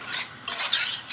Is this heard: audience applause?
no